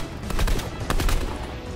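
Gunfire in the video game Fortnite, a quick volley of several loud, close shots packed into under two seconds, alone with no talk.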